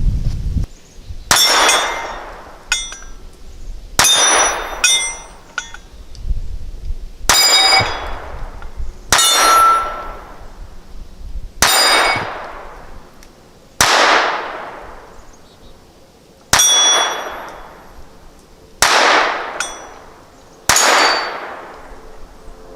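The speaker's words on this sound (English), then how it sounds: "let's go back and try to shoot this at long distance." Repeated .22 shots from a Ruger LCP II Lite Rack pistol fired at long distance, each sharp crack followed by a bright metallic ring from a steel target, about ten evenly spaced impacts, loud and without talk.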